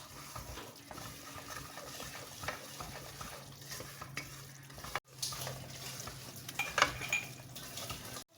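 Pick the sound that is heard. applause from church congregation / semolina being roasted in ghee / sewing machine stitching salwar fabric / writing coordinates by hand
semolina being roasted in ghee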